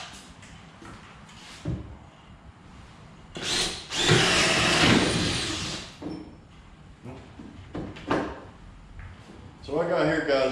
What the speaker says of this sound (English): So we'll drill those out